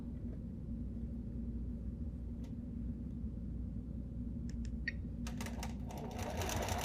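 Sewing machine stitching binding onto the edge of a quilt, a steady close mechanical whir running throughout, with a few faint clicks and a brighter rattle near the end.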